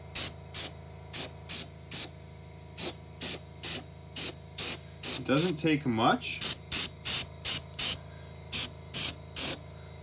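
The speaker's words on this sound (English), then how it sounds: "we're just gonna start kind of spraying across the car" Short, sharp bursts of spray hiss repeat in a steady rhythm, close by, as paint is sprayed onto an O scale model train boxcar, briefly interrupted while someone speaks before the spraying resumes.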